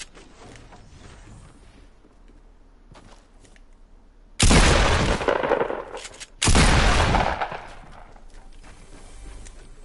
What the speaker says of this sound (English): He just sniped on me.